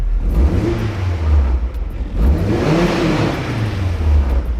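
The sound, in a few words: car engine revving with throttle blips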